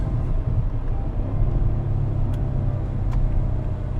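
Steady low engine rumble from a 2018 BMW M5 Performance in sport mode driving and downshifting, a smooth continuous drone heard from inside the cabin with a couple of faint brief clicks.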